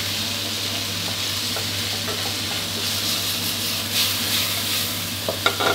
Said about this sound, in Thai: ผัดให้เครื่องซีฟู้ดโดนกับความร้อนสักครู่นะครับ